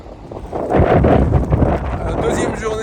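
Gusty headwind buffets the microphone of a cyclist riding along the Rhône in loud rushing bursts, with a faint voice in the background.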